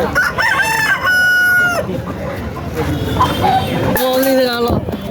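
A rooster crows loudly nearby, twice, with long drawn-out calls and some background chatter between them, at a Saturday country chicken market in Mamidada.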